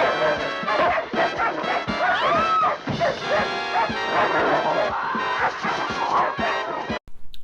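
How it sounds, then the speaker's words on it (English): A dog barks and yelps amid a chaotic horror-film scene with crashing, shouting and a dense music score. The barks are loud and close and tangle with the other sounds until an abrupt cut near the end. "And Tom's dog comes in to save the day"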